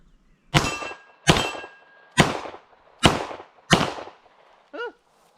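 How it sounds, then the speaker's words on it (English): Five sharp, loud pistol shots from a Beretta M9A4, evenly spaced about a second apart outdoors, each with a short ringing decay, followed by a brief metallic clang. "let's fire off the Beretta a couple more times"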